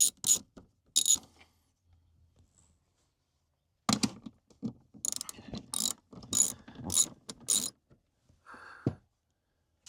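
A hand ratchet works on minivan seat frame bolts in several quick bursts of clicking, close by and separated by short pauses.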